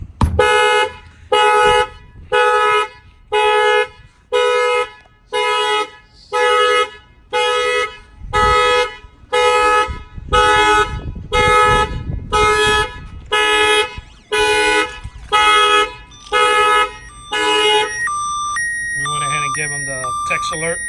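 A 2021 Infiniti QX60 factory car alarm blares in a steady on-off pattern, about fifteen loud pulsed bursts, then shifts into a rapid warbling siren tone near the end.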